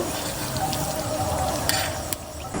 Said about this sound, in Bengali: ওটাকে ডিপ ফ্রাই করে নেব